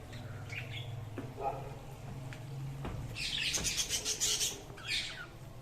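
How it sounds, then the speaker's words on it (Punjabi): Small Australian parrots kept in cages at a farm house chirp and squawk in bright bursts, growing busier in the second half, with a low hum in the background. "ਇਹ ਖੂਬਸੂਰਤ ਤੋਤੇ ਛੋਟੇ ਛੋਟੇ ਆਸਟ੍ਰੇਲੀਅਨ"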